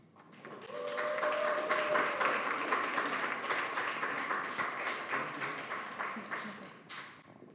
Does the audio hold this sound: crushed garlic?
no